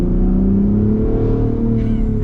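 A custom Ford Raptor pickup truck accelerates, its engine revving loud and close in a steady rising drone with a brief whoosh near the end.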